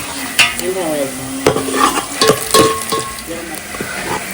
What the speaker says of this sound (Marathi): हा तेलात छान परतून घ्यायचा मसाला